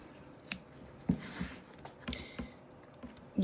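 Scissors trim fabric close to the stitches of an in-the-hoop zip bag, making several crisp, close snips at uneven intervals against a quiet background.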